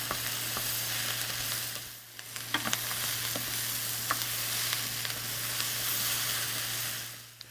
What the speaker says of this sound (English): we're going to cook this with the onions just about another 2-3